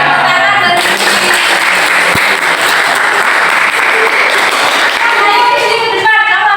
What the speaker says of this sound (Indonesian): Oke, tepuk tangan dari sini.